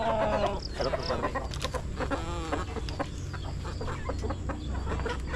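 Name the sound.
chickens clucking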